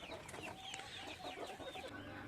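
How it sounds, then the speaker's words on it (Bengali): Domestic laying hens cluck and squawk repeatedly on a small poultry farm in Shariatpur, Bangladesh, as a quiet, continuous chatter of several birds with no talking. "এগুলো সব ডিম পাড়া মুরগি ডিম পারতেছে অলরেডি দেখেন"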